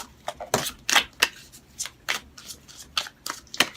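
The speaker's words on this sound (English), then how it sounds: "Okay, I'm going to shuffle 2 more times," Tarot cards being shuffled by hand in a quick series of crisp riffles and slaps, close and clear, with no talking over them.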